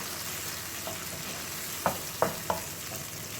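Spices going into a pan of well-fried onion for a mixed vegetable curry of potatoes, cauliflower, broccoli and carrots, with a low steady sizzle and three sharp scraping stirs near the end.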